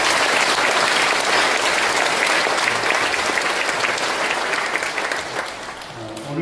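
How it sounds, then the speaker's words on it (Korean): A church congregation gives loud, sustained applause during a Korean church installation service, the dense clapping filling the hall before tapering off slightly at the end. "우리 성도님들이 감사의 박수를 드리겠습니다."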